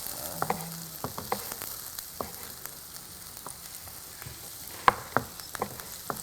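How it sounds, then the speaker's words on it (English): Food frying in hot oil during a cooking segment on a Nigerian morning show, a steady sizzle with scattered sharp pops and crackles throughout. "We are going to fry it."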